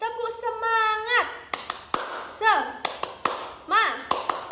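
Sharp hand claps in a quick rhythmic pattern, interleaved with children's chanting voices in Indonesian; claps are close and crisp, coming in short bursts, a classroom clapping chant.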